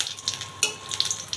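Three dried red chillies and a green chilly fry in oil left over from frying fish, giving a steady close sizzle with a few sharp stirring clicks and no talk.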